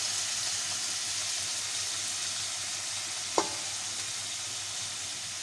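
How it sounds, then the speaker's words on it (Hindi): Tomatoes tipped into a hot pan for an egg and potato curry, bringing a strong, continuous sizzle and hiss close by, with one short knock partway through and no voices. "पहले टमाटर डालते हैं।"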